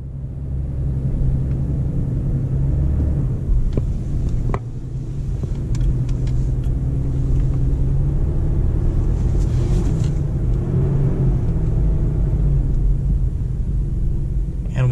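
A Ford Explorer rumbles steadily nearby, pulling out of a driveway onto the street, with a few faint clicks and knocks over the low, continuous engine sound.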